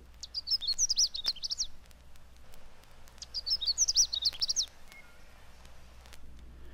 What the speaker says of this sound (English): Canada warblers likewise stay here, calling witchet to witchet.